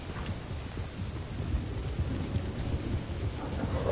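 Steady rain and rolling thunder from a storm in the Western video game Red Dead Online, a continuous low rumble with dense rain hiss, loud and unbroken throughout.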